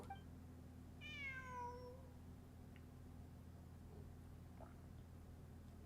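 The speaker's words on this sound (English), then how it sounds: "I'm not hearing things. It really is a cat." A cat meows once inside a video game, a single drawn-out falling call standing out clearly against a quiet, steady low hum.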